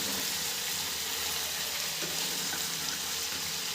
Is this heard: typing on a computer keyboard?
no